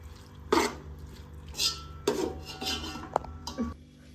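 Metal cookware clinks and scrapes as a lid is set onto a cooking pot on the stove, several short close knocks and rattles spread across a few seconds.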